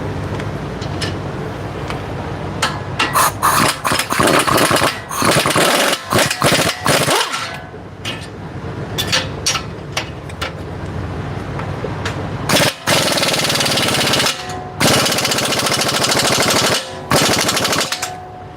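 A power impact tool tightens a suspension bolt on a Nissan Rogue, firing loud, close bursts of rapid hammering that stop and start repeatedly, with brief pauses and whirring between them.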